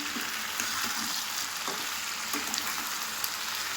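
A spatula stirs fish curry with mixed vegetables in a pan of thin, light gravy, giving a steady close sizzle with soft scraping and stirring noises throughout.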